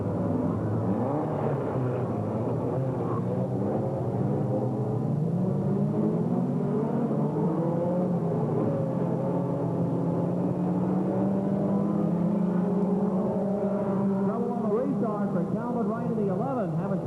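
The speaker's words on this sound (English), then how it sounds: "Getting up through the gearbox, and Charles Graham tries to pull out" Stock car engines roar and rev continuously around a dirt track, a steady wash of motor noise with shifting pitch as cars climb through the gears, under ongoing race commentary.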